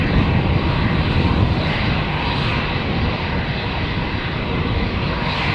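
Airliner taking off from runway 36L at Amsterdam Schiphol, a loud, steady engine roar that holds constant throughout without pause.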